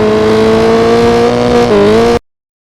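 Rally car engine in Richard Burns Rally, revving loud and steady on a loose gravel surface, with a brief pitch dip as the throttle is lifted before the sound cuts off abruptly.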